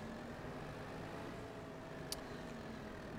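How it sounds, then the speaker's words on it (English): Small tractor idling in Farming Simulator 22, a steady low engine drone that holds even and unbroken, with one faint click partway through and no talking. "we're going to grab our smaller tractor."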